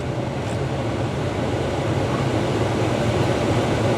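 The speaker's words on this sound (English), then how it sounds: "And we have our heat and air conditioning right here." Heater and air-conditioning blower of a 2003 Nissan Maxima GLE running, a dense steady rushing whoosh with a low rumble, constant and fairly loud with no talk.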